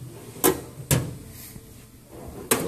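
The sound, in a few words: drawer opening in a truck driver's toolbox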